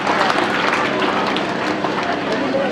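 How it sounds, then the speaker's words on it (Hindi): Loud, dense applause from an audience at a school annual function, a continuous wash of clapping and crowd noise throughout. "उनके लिए भी एक बार जोरदार तालियां बजा के अभिनंदन कीजिएगा।"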